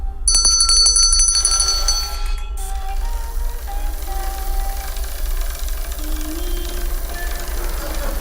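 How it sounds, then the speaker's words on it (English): A small hand bell rings loudly and rapidly for about two seconds at the start, its bright metallic tones then fading into a lingering ring over a steady low hum. "when I ring the bell, the doll's right arm comes up."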